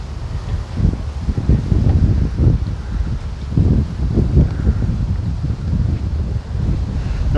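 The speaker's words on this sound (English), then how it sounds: "Forgive me if it's windy" Wind buffets a microphone while walking onto Sunny Isles Beach in Miami, a low rumbling roar in uneven gusts that stays loud and close throughout, with faint surf hidden underneath.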